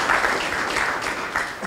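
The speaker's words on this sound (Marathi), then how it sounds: "ज्यांचं कौतुक झालं त्यांच्यासाठी परत एकदा टाळ्या वाजवा तुम्ही" An audience claps together at a career and technology talk held by a student aid committee: a dense, loud, continuous burst of applause with no speech over it.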